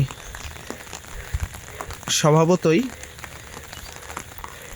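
Monsoon rain falls steadily in Bangladesh, a constant hissing patter heard throughout, with someone speaking briefly over it midway.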